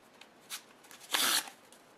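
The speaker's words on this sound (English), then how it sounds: "we're going to take these queens, set them over here, and we're going to shuffle the deck." A deck of cards is shuffled, a brief quiet riffle followed by a louder, crisp flurry of cards snapping together, close by.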